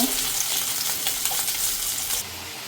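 Fish fries in hot oil in a pan with a loud, steady crackling sizzle close by, the bright hiss dropping abruptly near the end as the heat or pan shifts.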